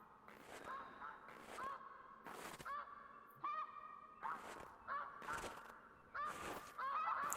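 Geese honking in the wild along a hiking route, several loud calls in bursts spaced about a second apart, with a person talking in between.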